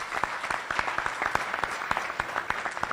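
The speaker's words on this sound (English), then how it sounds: "One last applause for them." Audience applause for the event tech teams at a DevOps conference: a dense, steady round of many hands clapping across the hall, moderately loud and sustained, with a few voices faintly underneath.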